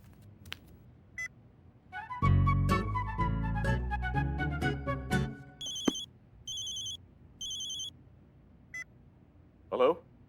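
A phone rings during a call with a series of repeated electronic beeps, mid-loud and close, following a short burst of musical tones and ending with a brief sound.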